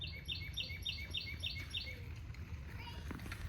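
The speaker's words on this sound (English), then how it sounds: "There's a bird singing." A small bird sings a quick series of repeated bright chirps, fairly near but faint, over a low background hum before falling quiet.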